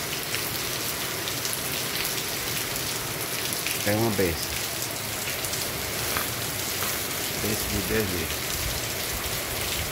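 Steady rain falls in Santana do Ipanema before dawn, a dense continuous hiss of drops on surfaces filling the whole span, while someone speaks briefly over it.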